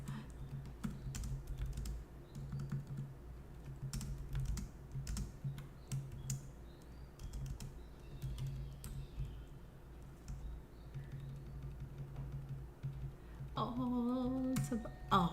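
Computer keyboard keys are typed in irregular bursts of soft clicks over a faint background hum, ending with a brief tonal sound at the close.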